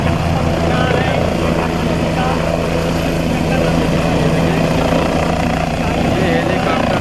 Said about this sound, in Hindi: काफी गरजते हुए हेलीकॉप्टर जा रहे हैं